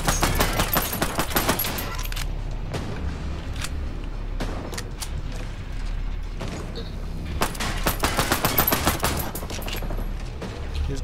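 Pistol fire in the game Ghost Recon Breakpoint comes as repeated sharp shots in clusters with brief pauses between them, loud and close, with no talking.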